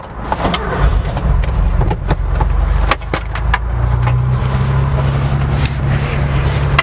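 A 1983 Mercedes-Benz G-Wagon 280GE engine cranks briefly and catches, then settles into a loud, close, steady idle with a low rumble and a faint higher whine.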